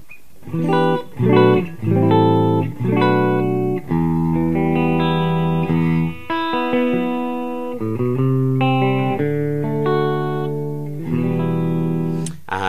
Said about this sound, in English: This is not exactly the cleanest guitar in the world, but it has good rock tones.